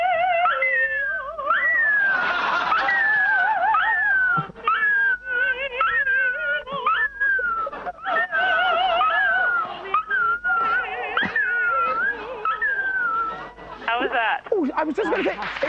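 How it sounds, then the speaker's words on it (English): A singing dog and an Airedale howl together in a television studio, giving long warbling, rising and falling tones that carry loudly and almost without a break, with occasional brief human sounds mixed in. "There may be two dogs singing."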